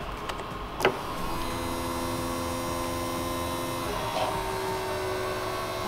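Electric fuel pump on an Opel Manta running and pushing gasoline: a steady low motor hum with a faint whine held for several seconds after a brief click, quiet and close, no talking.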